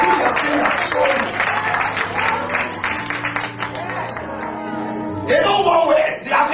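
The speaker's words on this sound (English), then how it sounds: "All the women who agree, clap your hands." Women in an audience clap their hands together in a burst of applause, a sustained, fairly loud patter that swells near the end, with a low musical or crowd background underneath.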